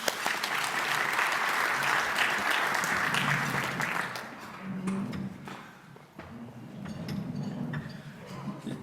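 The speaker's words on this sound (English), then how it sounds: "So let's give them an applause." Audience at a Rotary Club of Little Rock weekly meeting applauds visiting Rotarians, a steady burst of clapping that fades midway, leaving scattered handclaps and room noise.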